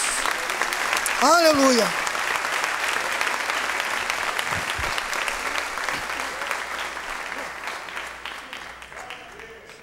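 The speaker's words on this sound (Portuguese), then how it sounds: "A Ele uma salva de palmas bem forte, ao nome de Jesus." A church congregation applauds strongly during an evangelical worship service. The clapping is dense and sustained, with a preacher's voice speaking over it.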